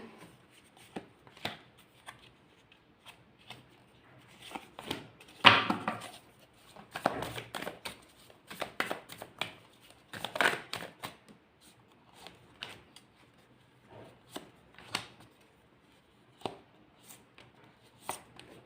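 Tarot cards being shuffled and drawn from a deck, heard as a quiet series of irregular papery slaps, flicks and riffles with short pauses between, close and dry.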